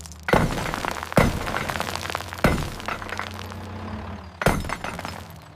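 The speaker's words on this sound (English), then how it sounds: "I is for impact hammer." An impact hammer on construction equipment breaking material, heard as four loud, sharp crashing blows spaced unevenly across a few seconds, each followed by a rumbling, debris-like decay.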